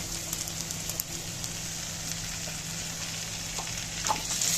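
Garlic and coriander fry in ghee for Egyptian fatta, a soft, steady sizzle with light crackles and a brief stirring clatter near the end, and no one talks.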